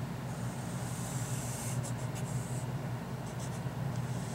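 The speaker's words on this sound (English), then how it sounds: "Let me sketch a graph." A graph sketched by hand for a college algebra lesson, with soft scratchy pen or marker strokes in short bursts over a steady low background hum.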